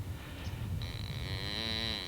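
A cow moos after a difficult calving, a long drawn-out bellow that begins about a third of the way in and holds steady to the end, close and loud over low background rumble.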